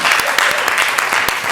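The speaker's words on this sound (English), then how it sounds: "we can clap again now" A room full of people at a board meeting clapping loudly and continuously, close and dense, with sharp individual claps standing out.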